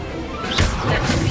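An Incendio fire spell cast in Hogwarts Legacy, a loud whooshing burst with a crackling, crashing impact that swells at mid-clip and lingers as a rumbling flare.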